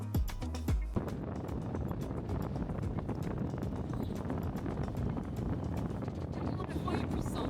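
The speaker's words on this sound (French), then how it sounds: "Il fait très froid, il y a beaucoup de vent" Strong, cold winter wind at a seaside lighthouse buffets the microphone in a continuous loud, rough roar, with a brief low rumble at the start.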